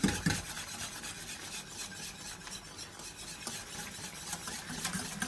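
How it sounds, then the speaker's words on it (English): A whisk scraping and stirring quickly through a warm sauce in a pan, a steady close rhythmic rasping that continues throughout. "Then we're going to whisk it in, just like so."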